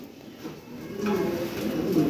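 Lahore Siraji pigeons coo softly and low nearby, a faint murmuring call that grows slightly louder, with no talk over it.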